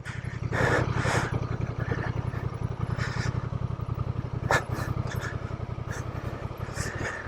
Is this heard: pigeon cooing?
no